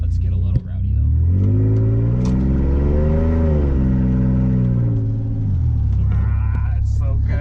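A Toyota Tacoma with a 3.4 V6 and no muffler revs up into a loud, raspy roar, holds, then falls back to a deep rumbling idle, close by.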